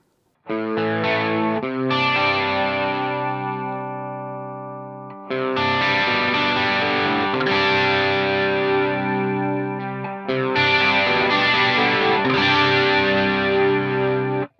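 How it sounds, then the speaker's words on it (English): Sustained electric guitar chords through a NUX MG-400 chorus effect, shimmering and swirling, played loud in three separate phrases with short breaks between them. "So as you can hear, we can trigger the effect volume of the chorus."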